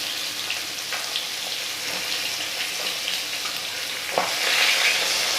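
Pieces of chital fish frying in oil, a continuous close sizzle with faint crackles and a brief clatter near the end, steady and moderately quiet, with no voices.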